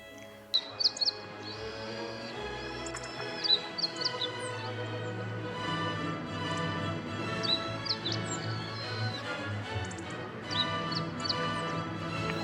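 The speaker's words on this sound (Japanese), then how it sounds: "ホオジロのさえずりは春を感じさせる音色ですが、今はまだ練習中のようで少しぎこちない音を出しています。" A meadow bunting chirps and trills in short, somewhat halting practice phrases in an early-spring park, fairly close, with steady background hum underneath.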